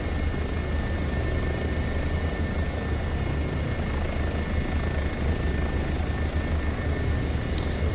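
Steady, loud rotor and turbine drone of a Bo 105 helicopter cruising in Microsoft Flight Simulator 2024 over Niagara Falls, a constant low thrum with a high whine continuing unbroken throughout.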